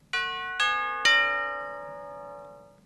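Bells picking out a melody in a song, three clear struck notes in quick succession, each ringing on and slowly fading, bright and close.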